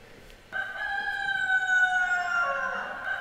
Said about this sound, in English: The Guatemalan cockerel.